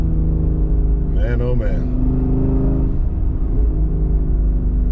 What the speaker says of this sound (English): So I'm running the Corsa Extreme catback exhaust system on the GT